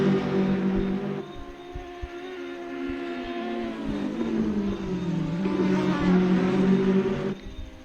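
GT4 race car engine in a sim racing game at Virginia International Raceway, a continuous droning hum that rises and falls in pitch through gear changes, steady and fairly loud with no voices.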